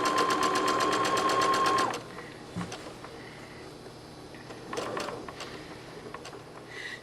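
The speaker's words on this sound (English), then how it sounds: "right now we're just sewing along the smooth part of our material and removing our pins as we go" A sewing machine runs steadily on dress fabric for an A-line dress, stitching loudly along a smooth stretch for about two seconds before stopping, followed by quiet handling and faint clicks.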